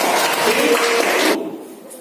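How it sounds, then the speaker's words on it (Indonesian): A roomful of people claps in a steady, dense patter for over a second, then the applause fades quickly into quiet. "Tepuk tangan dulu buat kita semua"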